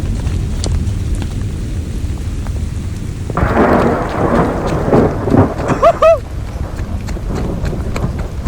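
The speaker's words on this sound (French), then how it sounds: "Non mais gros, il grêle." Hailstones rattle down in a dense, noisy downpour, with rumbling and a few voices calling out over the clatter.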